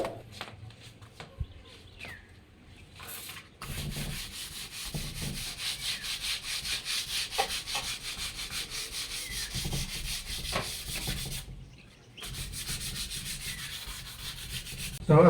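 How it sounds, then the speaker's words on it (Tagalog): Coarse number 80 sandpaper rubs by hand across a wooden door in steady back-and-forth strokes, a close scratchy sound with brief pauses between passes. "Number 80 ang gagamitin natin liha."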